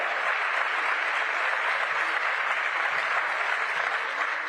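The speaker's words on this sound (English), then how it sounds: "Give them another round of applause." An audience gives another round of applause for young people, a steady, even roar of clapping heard at a slight distance, unbroken throughout.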